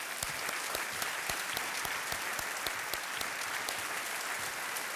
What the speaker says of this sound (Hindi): एक बार फिर तालियां बज जाए इनके लिए।